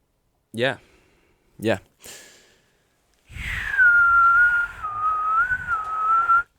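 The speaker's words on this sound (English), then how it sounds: "I've been practicing my whistle." Two short vocal bursts, then a person whistles a sustained, slightly wavering tune for about three seconds, close and clear.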